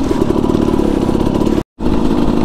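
Supermoto motorcycle engine revving steadily and loud at close range, a dense mid-pitched rumble that cuts out briefly near the end before resuming.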